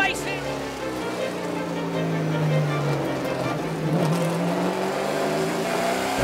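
TransAm Series race cars roar off the start at the Music City Grand Prix, a loud layered engine drone with rising revs from several cars, overlaid by commentary talk.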